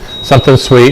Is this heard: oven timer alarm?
yes